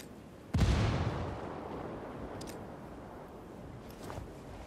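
A frag grenade goes off in Ghost Recon Wildlands with one sudden, heavy boom whose rumble trails away over a few seconds, followed by faint scattered pops in the distance.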